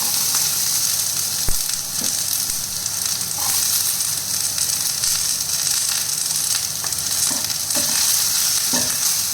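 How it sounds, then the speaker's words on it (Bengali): Garlic and onion frying in a small amount of oil, a continuous soft sizzle and hiss with occasional scrapes and clicks of a spoon stirring the pan, close and steady with no talking. "একটু নেড়ে চেড়ে এবার আমি আঁচটা কমিয়ে দিলাম, নয়তো রসুনটা পুড়ে যাবে, তেলটা খুব অল্প তো"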